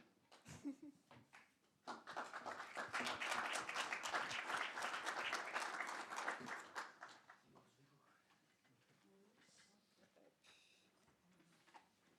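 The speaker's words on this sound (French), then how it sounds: "Sous vos applaudissements" Conference audience applause welcoming speakers to the stage, building quickly into a dense, steady burst of clapping that peaks and then tapers off into quieter room noise and stray sounds.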